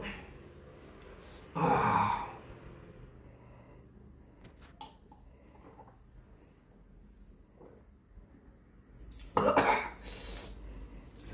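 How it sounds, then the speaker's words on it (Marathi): Two hoarse coughs, several seconds apart, ring out close by in an otherwise quiet room. "खोकला तर काही थांबा ना थांबा"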